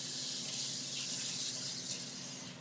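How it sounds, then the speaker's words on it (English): Two 12-ounce cans being rinsed under a running kitchen tap, a steady close hiss of flowing water with a spattering wash over the metal, continuous for the whole stretch with no talking. "I'm going to rinse them off."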